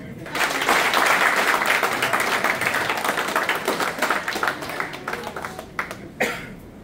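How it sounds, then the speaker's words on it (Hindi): Audience applause at a seminar in Ahmedabad, Gujarat: a dense burst of many hands clapping that thins into scattered individual claps and fades, with a final isolated clap near the end. "तालियां।"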